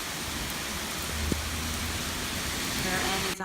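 Heavy rain pours down steadily in a storm, a dense unbroken hiss of falling water that stays loud and even from start to finish with no other clear sounds.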